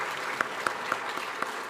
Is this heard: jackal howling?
no